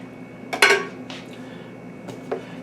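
Texas chili beans stirred in a pot on a stove, a few short metallic scrapes and clinks of a utensil against the pot in two brief bursts with quiet gaps between, close and fairly soft.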